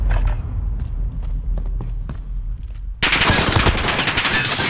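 Rapid automatic gunfire from a high-capacity gun in an online shooter game, with a few scattered shots early on, then a loud sustained burst of fire over the last two seconds.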